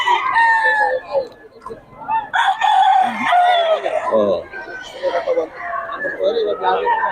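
A breeder's gamefowl roosters and chickens crow in repeated loud calls mixed with clucking, close by and overlapping, with people's voices in the background.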